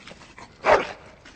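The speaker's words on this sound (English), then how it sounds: "Bloody dog." Dog in the game Dragon Age Origins giving a single short, breathy whine or yip in the middle of a quiet stretch, close and fairly soft over a low background.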